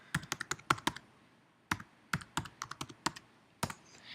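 Fingers typing a URL on a computer keyboard, with a quick burst of clicky keystrokes, a pause, then several more scattered taps, close and quiet.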